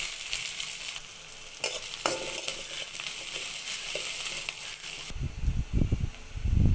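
Chopped onion goes into a spoonful of hot oil already tempered with five-spice and bay leaf, raising a hissing sizzle with sharp crackles, then heavier stirring scrapes and clatter near the end.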